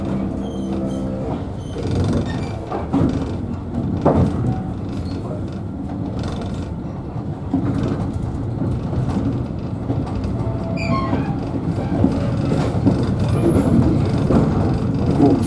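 Wensleydale Railway heritage train moving along the line, heard from inside the carriage as a steady mechanical rumble with rhythmic clanks and rattling of the coach, continuous and fairly loud throughout.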